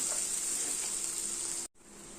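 Ground cumin, coriander and chili powder fry in a pan of masala with a steady, close, bright sizzling hiss that drops out briefly near the end before resuming.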